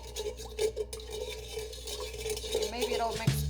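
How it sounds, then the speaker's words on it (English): Sugar and salt are stirred in a mixing bowl, giving a continuous close gritty scraping and swishing with small clinks against the bowl and a thump at the end. "You can hear that sugar and"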